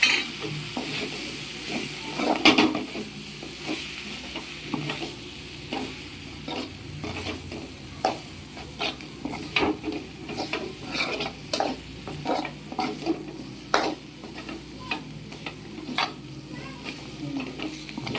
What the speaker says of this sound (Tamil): இப்போ இந்த மிளகாத்தூளையும் நம்ம போட்டுப்போம். போட்டு நல்லா வதக்கி